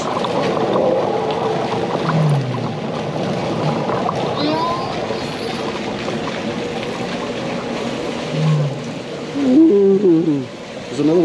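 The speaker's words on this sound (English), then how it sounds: "Whale sounds." Recorded whale calls play from an exhibit sound display in Dundee, long moaning and rising-falling tonal cries repeating over about eleven seconds, loud and close with a low rumbling bed beneath.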